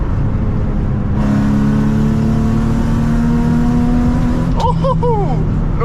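Modified, worn Infiniti G35 driven on a road, a loud steady engine and road drone heard from inside, with a rising rev tone and a short voice at the end.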